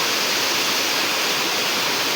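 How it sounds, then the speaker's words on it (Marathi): A jungle waterfall pours in a steady, dense roar of rushing water, close and loud throughout with no breaks and no voices. "मस्त धबधबो"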